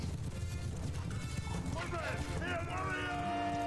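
Galloping horses in the medieval battle game Mount & Blade II: Bannerlord, a dense rumble of hooves under battle noise with rising tonal cries or music partway through, loud and continuous throughout.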